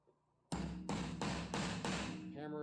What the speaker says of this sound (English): hammer it in at first,